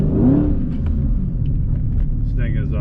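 Dodge Hellcat V8 rumbling as it drives on a snowy Michigan road, a loud, close, steady low engine drone with a brief rising rev near the start and faint voice sounds over it.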